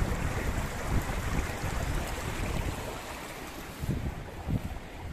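Water rushes forcefully down a narrow channel feeding a village water mill in Dang, Nepal, a continuous, fairly close churning roar without talking.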